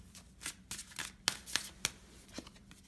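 Tarot and oracle cards shuffled by hand at close range, a quick series of crisp riffling flicks and slaps in an uneven rhythm, moderately soft and with no talking.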